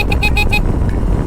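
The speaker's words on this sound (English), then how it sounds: "My horn is back" A motorcycle horn gives four quick short toots in a fast burst on a night ride, loud and close over steady engine and wind rumble, then stops while the ride noise carries on.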